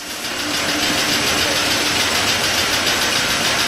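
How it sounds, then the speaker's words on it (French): A perforator-extractor pump drawing fuel out of a scrapped vehicle at a depollution station, giving a steady, loud mechanical drone with a fast, even buzzing pulse that runs unbroken with no talk. "Le perforateur extracteur peut pomper le carburant à un débit d'environ 35 litres par"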